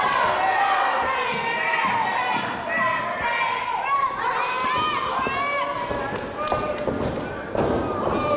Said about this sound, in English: As you hear from the response from the crowd, Thunderous.